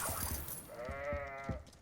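A single drawn-out sheep bleat in the video game Hogwarts Legacy, wavering and nasal, rises over low background noise and soft thumps, then fades.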